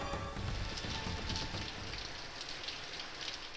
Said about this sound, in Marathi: त्यामुळे सर्वदूर पाऊस बरसतोय